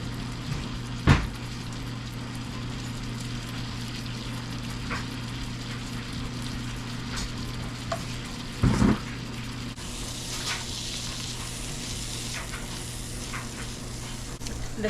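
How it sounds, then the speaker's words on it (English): Pecans toasting in butter in a pan on a stovetop, a steady low sizzle with occasional sharp clinks and scrapes of stirring, close and fairly quiet throughout. "in a pan with our pecans and toast them for 5 minutes."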